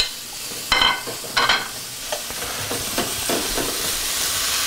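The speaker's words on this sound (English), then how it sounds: "got a pan, medium high, sizzling butter." Apples hit a pan of sizzling butter over medium-high heat, with two loud sputtering bursts followed by a steady, close frying hiss and occasional stirring scrapes.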